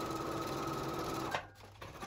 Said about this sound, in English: So we'll just take this over to the machine and sew this opening closed